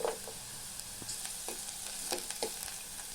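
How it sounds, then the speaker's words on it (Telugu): Vegetables frying in a pan for finger millet (raagi) soup with ginger and garlic, a steady soft sizzle with occasional stirring scrapes, close and fairly quiet. "కొద్దిసేపు ఇవి మగ్గేదాకా వేయించుకోవాలి."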